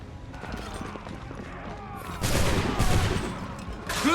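Musket volleys from soldiers in Assassin's Creed 3 crackle in a dense, overlapping burst, growing louder partway through amid battle noise and shouting.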